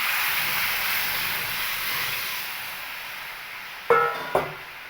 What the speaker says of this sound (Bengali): এবার পুরো ডালটাকে কিন্তু ঢেলে দেবো।